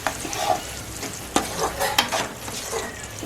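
Crab sizzles and fries in a pan with chilli powder and pepper while being stirred, with scraping clinks of the utensil over a steady crackling hiss.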